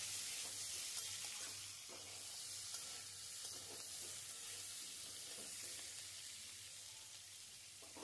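Potatoes and green chillies are stirred in a hot pan, giving a soft, continuous sizzle and hiss at low volume with faint scraping throughout.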